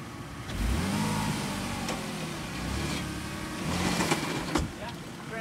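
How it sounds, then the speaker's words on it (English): A 1969 Jeep 4x4 engine revs in rising and falling surges, loud and close, with mechanical clatter from the drivetrain and voices talking intermittently over it. "Rev it up a little."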